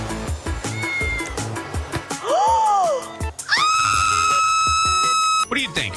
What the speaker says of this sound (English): I hear a cat.